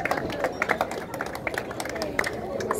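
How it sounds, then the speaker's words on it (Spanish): Audience clapping at an indigenous education anniversary ceremony in Tehuacán Sur, Puebla: a steady patter of many hands with crowd murmur, moderately loud and continuous throughout. "Fuerte el aplauso para Huehuetla."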